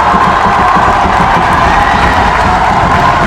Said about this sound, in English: This crowd is so loud, it is hurting my ears.